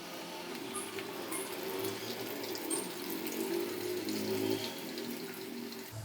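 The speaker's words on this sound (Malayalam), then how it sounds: "എണ്ണ ചൂടായി കഴിയുമ്പോൾ ഓരോന്ന് ഇട്ട് കൊടുത്ത് ഫ്രൈ ചെയ്തെടുക്കാം." Potato bites deep-fry in hot oil in a kadai over a medium flame, making a steady, close bubbling sizzle that holds at an even level throughout.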